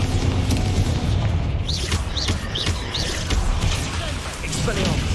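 In Hogwarts Legacy, a Bombarda spell sets off a heavy boom with crashing impacts and debris, followed by scattered smaller bursts and whistling accents amid ongoing game combat.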